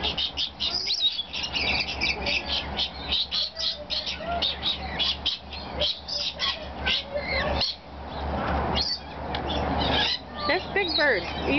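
Lorikeets at Oregon Zoo give loud, close, shrill chattering and squawking calls in rapid bursts, nearly continuous over a low background hum.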